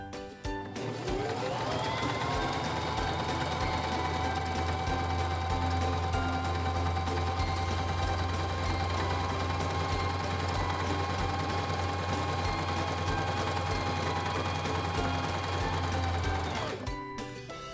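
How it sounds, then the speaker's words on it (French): Singer 3232 sewing machine stitching a feather stitch, a steady close mechanical whir with rapid needle rattle running continuously for about fifteen seconds, starting and stopping cleanly. "placez le tissu sous le pied presseur, abaissez le pied presseur et commencez à coudre"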